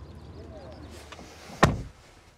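A car door shuts at an auto show with a single solid, close thud that ends quickly, heard after a quiet stretch of low background hum.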